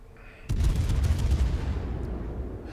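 Heavy naval guns fire HE shells from a Zao cruiser in a World of Warships battle, a sudden loud booming salvo that rolls on into a long, rumbling decay.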